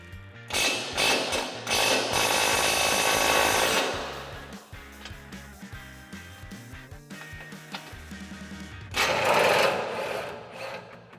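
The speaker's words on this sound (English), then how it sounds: "remove the lower nut on our sway bar link using our" A power tool with an 18mm socket spins off the lower sway bar link nut on a Ford F-150, short whirring bursts mixed with clanking and ratcheting, with a final loud burst near the end.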